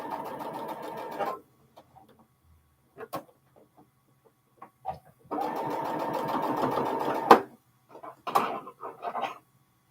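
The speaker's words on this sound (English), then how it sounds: "there you can see how I sewed a block onto my width of fabric strip" A sewing machine stitching a fabric block onto a width-of-fabric strip in a quilting session, running in two steady bursts of rapid stitching with short pauses and small handling clicks between them.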